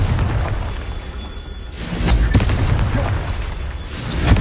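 A Confringo blasting spell detonates in Hogwarts Legacy, a booming explosion followed by a second heavier burst and a rumbling tail, loud and close with steady game ambience throughout.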